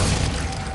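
A Glacius ice spell strikes its target during Hogwarts Legacy gameplay, a short, dense, loud impact burst that fills the whole moment with no voices.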